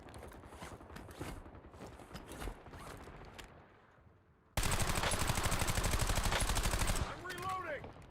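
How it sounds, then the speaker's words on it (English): Video game gunfire in a live multiplayer match: rapid automatic bursts run through the opening seconds, then a loud, dense stretch of sustained shooting takes over before easing into scattered shots at the end. "Taking effective fire."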